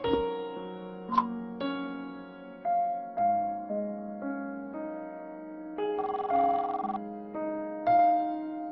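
A telephone rings on and on unanswered at night in a house, a sequence of electronic melodic tones stepping through a tune, clear and close with no voices over it.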